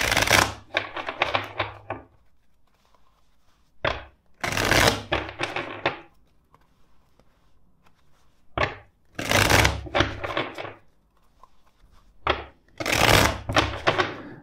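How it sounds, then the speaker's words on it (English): A tarot card deck is shuffled in several separate bursts of riffling and snapping cards, each lasting a second or two, with quiet pauses between them and no talking. "let's shuffle the deck four times"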